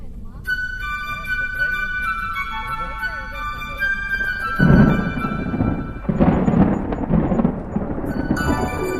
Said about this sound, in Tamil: சரியான மழை அதனால் வந்து எங்களால் ஸ்விம்மிங் பூலில் வந்து இறங்க முடியல